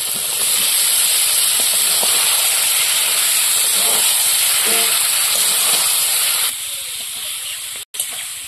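Fried potatoes go into a pan of sizzling, oil-released spice paste, giving a loud, steady hiss and sizzle that runs throughout, easing slightly near the end with a brief drop-out.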